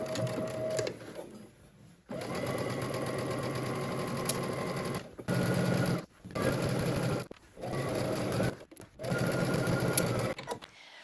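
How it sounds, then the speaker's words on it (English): A domestic sewing machine stitches a garment seam at a 5/8-inch allowance, whirring steadily in several bursts separated by short pauses, close and fairly loud with no talk. "now we're going to head to the sewing machine and we're just going to stitch using 5/8 of an inch seam allowance."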